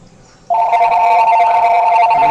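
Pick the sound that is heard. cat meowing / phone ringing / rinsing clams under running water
phone ringing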